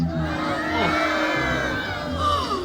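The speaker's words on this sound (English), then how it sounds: "All together, let's yell out, oh no!" A crowd of children in a theater audience yells together in one loud, sustained group shout, with cheering and whoops blending through a couple of seconds.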